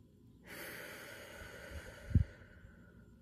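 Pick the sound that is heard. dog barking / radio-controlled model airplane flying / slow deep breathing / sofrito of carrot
slow deep breathing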